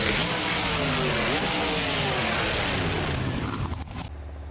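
Monster truck engine in BeamNG Drive at a custom truck world finals event, roaring loud and steady with rising and falling revs and some scraping before cutting off abruptly.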